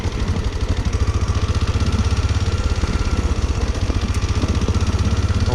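A motorcycle engine riding over a rough, dug-up road with an unpacked base thumps with a rapid, even pulsing beat, close and loud and steady throughout, with no talking.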